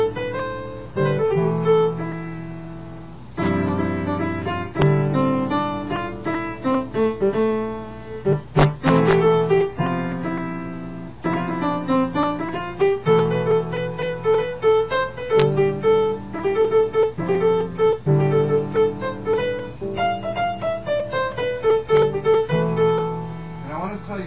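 A keyboard plays a modal melody in A Aeolian over a quartal left hand, notes moving steadily with sustained chords, clear and close with no talking.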